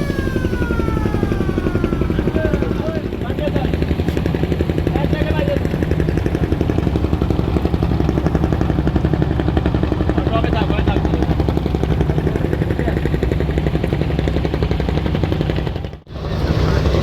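A passenger river launch departs Barisal with its engine running, a steady, loud low drone and mechanical rumble that carries on throughout, with constant vessel and engine noise over it.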